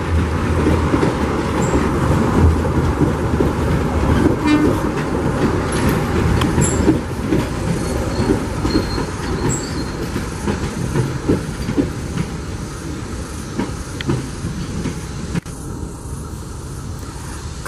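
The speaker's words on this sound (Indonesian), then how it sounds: "Kereta api Serayu 251 normal ya, silang sama Pasundan di stasiun Cibatu." The Serayu 251 passenger train rolls through Cibatu station as it crosses the Pasundan train. A loud, steady rumble of wheels and carriages carries scattered rail clacks and brief squeals throughout, with no talking.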